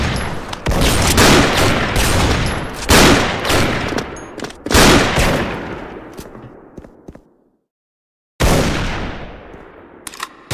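An M82 Barrett sniper rifle firing in the online shooter Special Force, several loud heavy booms each followed by a long fading echo, then a brief silence before one more blast.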